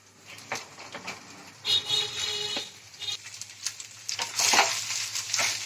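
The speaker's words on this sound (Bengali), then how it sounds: "ঘিয়ের সঙ্গে ভাতটা একটু নেড়ে চেড়ে দিচ্ছি" Rice is being stirred into hot ghee in a pan for egg pulao, giving soft scraping and sizzling with intermittent clinks of a spoon against the pan, close and moderately loud.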